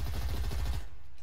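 A rapid burst of gunfire in Fortnite, with repeated sharp shots in quick rhythm for under a second, loud and close, then cut off into quiet.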